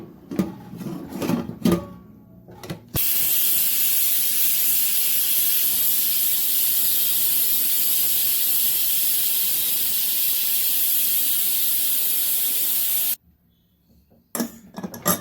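A pressure cooker of chicken and broad bean curry gives a loud, steady hiss of escaping steam, unbroken for about ten seconds, with brief talk and clatter just before it starts and after it stops.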